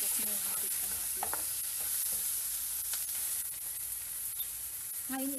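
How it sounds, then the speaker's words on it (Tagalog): Tomatoes fry in a pan for ginisang togue, a stir-fried bean sprout dish, giving a steady close sizzle and hiss with occasional scraping and stirring clatter. "Antayin na natin hanggang sa medyo mag-half cook na yung ating kamatis."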